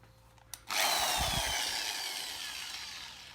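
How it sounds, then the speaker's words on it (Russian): A drill with a metal bit starts abruptly and grinds steadily into a cement flower pot, loud and close, its whine slowly easing over a few seconds. "поэтому я думаю легче будет и удобнее просверлить вот этим сверлом по металлу"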